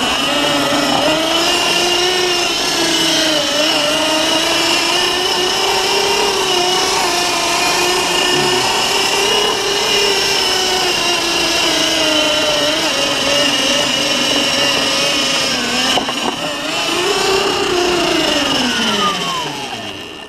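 A homemade electric four-wheel-drive ATV's motor runs steadily in low range, a loud continuous whine with shifting tones and no pauses throughout.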